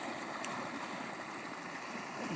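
Irrigation water drawn into a farm channel trickles slowly along, making a faint, steady murmur of flowing water with no talking over it.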